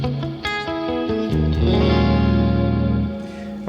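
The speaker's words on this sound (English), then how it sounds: "a really modern, very, very transparent type of reverb" Guitar chords ring out through a bright, clear, modern transparent reverb effect, with notes blooming and sustaining smoothly before tailing off into a soft wash.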